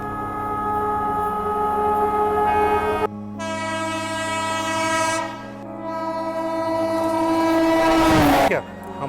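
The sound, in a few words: Shreedham Express train at Nizamuddin station, departure signal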